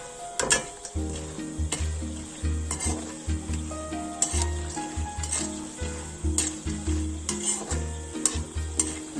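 Nimki snacks sizzle steadily in hot oil while a utensil stirs and scrapes the pan in a repeated rhythm, close up, with no talking.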